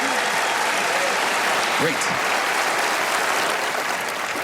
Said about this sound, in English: And we'll give Allison a big round of applause